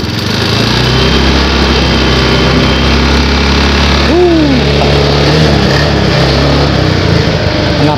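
Honda Beat Street automatic scooter engine, recently low on oil and hard to start, running loud and close with a steady buzzing drone, its pitch rising as the throttle is revved briefly.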